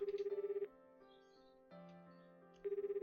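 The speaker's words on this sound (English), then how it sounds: "press the call button and the phone begins to ring." A phone rings in a visual novel game, with a repeating electronic trill that starts, gives way to a quieter ringback tone with sustained background music, and then resumes. The sound is clear and fairly quiet.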